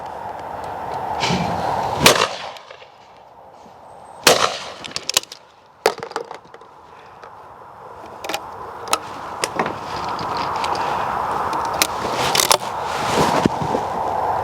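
Miroku Mk38 over-and-under shotgun firing at clay targets on a sporting stand, sharp loud reports coming singly and in quick pairs, with clatter and outdoor background between shots.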